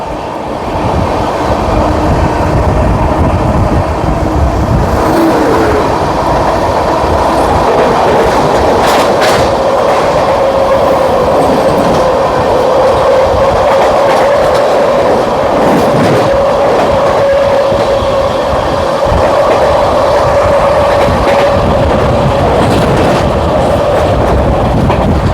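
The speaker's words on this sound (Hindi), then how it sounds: "ये आ गई बिहार संपर्क क्रांति एक्सप्रेस।" Bihar Sampark Kranti Express passing close by, a loud continuous rumble and rhythmic clatter of coaches on the rails, with a faint wheel squeal riding over the roar throughout, no voices.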